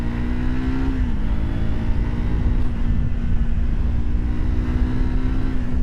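A 2025 Triumph Scrambler 400X, a 400cc motorcycle, accelerates hard with a loud, steady engine roar that holds close throughout, its pitch dipping briefly near the start as it shifts gear before pulling on strongly.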